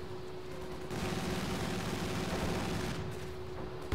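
Gunfire in Company of Heroes 2 rattles as a dense, steady wash of small-arms bursts, swelling louder after the first second and holding through most of the stretch before easing slightly at the end.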